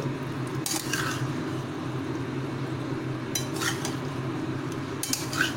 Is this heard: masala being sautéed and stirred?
yes